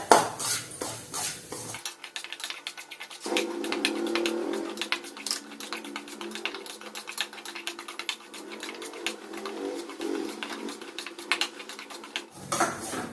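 A utensil stirring semolina roasting in ghee in a pan for rava kesari, steady scraping and light metallic clinks that carry on close by with no talking.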